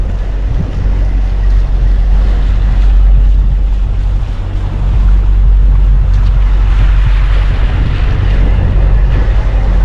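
A sailboat motor sailing at sea at sunrise, its engine giving a steady low drone beneath continuous wave wash and wind buffeting on the microphone, loud and unbroken throughout.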